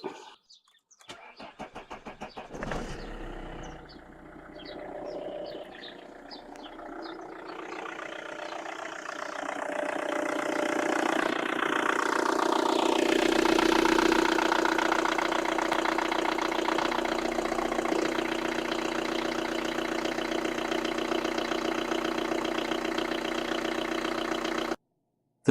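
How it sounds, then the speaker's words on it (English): A car engine with a starting problem cranks at length before catching, then settles into a steady idle that rises slightly and holds until the end, with no talk. "So let's start the engine."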